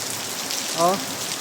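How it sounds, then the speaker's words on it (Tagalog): Heavy rain pours in a dense, steady hiss, with a short hum briefly rising above it partway through. "Lakas ng ulan."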